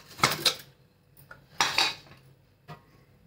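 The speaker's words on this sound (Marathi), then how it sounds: "आता कुकर घेतलं" Metal clanks from a steel pressure cooker being handled in a home kitchen while cooking spinach garagata with toor dal and peanuts: three sharp, close clattering bursts with quiet gaps, no talk.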